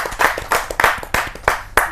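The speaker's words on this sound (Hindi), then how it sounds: "जोरदार ताली के साथ हम" Sharp, distinct claps ring out at a Hindi poetry gathering (kavi sammelan). They come in an uneven rhythm of about eight strokes, close and fairly loud, as if from only a few pairs of hands.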